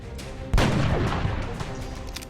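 A single heavy burst of gunfire from the XCOM video game lands after a short quiet lead-in, then a dense, booming roar slowly trails off.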